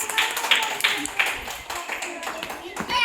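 A few scattered hand claps from children in a classroom throwing game, light and brief, mixed with an adult speaking and background chatter.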